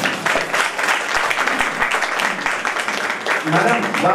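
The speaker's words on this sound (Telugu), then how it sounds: "కనీసం చప్పట్లు కొట్టడం మన ధర్మం" Audience applause honouring newly elected committee members of an Arya Vysya association at a felicitation by an MLA, a dense, steady wash of clapping from a crowd, mixed with voices.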